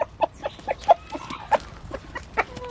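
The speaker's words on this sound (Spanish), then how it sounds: "Les dicen pic, pic, pic, pic, y les muestran dónde están." Chickens and roosters being fed hard-boiled egg cluck close by in short, repeated bursts, a busy scatter of soft calls over about three seconds with no talking.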